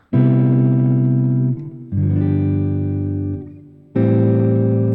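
Three sustained seventh chords ring out in turn, each strummed and held, with brief dips between them; a clean, steady guitar progression with no voices.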